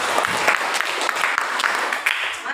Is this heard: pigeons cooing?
no